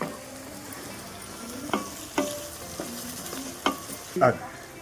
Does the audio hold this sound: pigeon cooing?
no